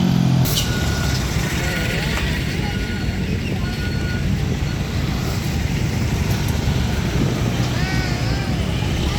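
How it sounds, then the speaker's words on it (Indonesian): Busy evening road traffic on the city border heading into Makassar, a steady close roar of trucks, buses and cars passing with hissing air brakes and occasional horns. "Yang menghadap ke kamera ini kendaraan yang mengarah ke Kota Makassar"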